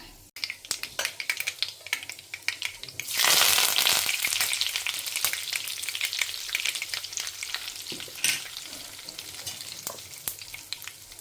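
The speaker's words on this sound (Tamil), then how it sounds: "கடுகு வெந்தயம் போட்டிருக்கேன் பொரியட்டும்" Mustard seeds and fenugreek crackle in hot oil with rapid sharp pops, a sudden loud hiss surging partway through, then a steady spluttering sizzle close by, with no voices.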